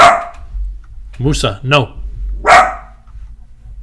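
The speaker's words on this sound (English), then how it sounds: "My little dog, he hears anything and he just barks." A small dog barks indoors in a few sharp, loud yaps spaced across the moment, while a person speaks to it in between.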